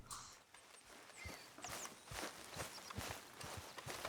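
Horse hooves clip-clop at a steady walking pace in Red Dead Redemption 2, with close, crisp repeated strikes over a light outdoor ambience and no talking.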